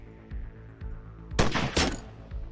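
Video game gunfire from a sci-fi shooter: a few soft thuds, then a sharp cluster of loud, close shots lasting about half a second, followed by a fainter thump.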